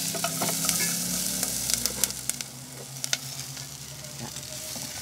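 Sweet and sour spareribs stir-fry in a hot wok: a bright sizzle overlaid with repeated scraping clacks and clinks of the spatula, loud and close with no speech.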